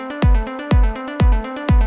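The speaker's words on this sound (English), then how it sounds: "a synth riff that plays 1, 2, 3, 4 16th notes within every kick" A synth riff of four 16th notes per beat repeats over a deep, booming kick drum, four kicks in under two seconds, close and loud with no voices.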